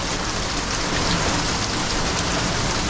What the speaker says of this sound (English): That's like pea size, or a little larger than pea size.